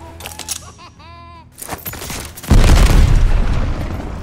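A grenade bursts in a multiplayer shooter video game as a loud, sudden, close boom that rolls on with heavy low rumble, following a few seconds of excited talking and a brief squeal.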